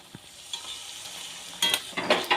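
Whisked sour yogurt goes into sizzling chicken do pyaza masala while it is stirred, a quiet frying hiss that flares into louder bursts of sizzle and scraping near the end.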